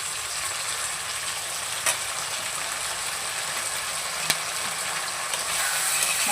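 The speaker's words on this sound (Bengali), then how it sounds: "চলো এবার এটাকে ভেজে নিই।" Fish sizzles steadily in hot oil with ginger, cumin and garlic spices, a continuous close frying hiss broken by a couple of sharp clicks.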